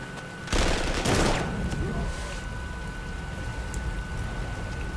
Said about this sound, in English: There's quite a bit of artillery about here.